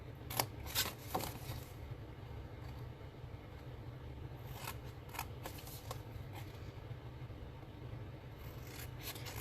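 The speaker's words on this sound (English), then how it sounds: "So I'm going to go ahead and cut out what I need to cut here." Scissors cutting out a paper template for a card-stock gift box, giving soft, close snips and rustling paper in short bursts over a low steady background hum, with no talking.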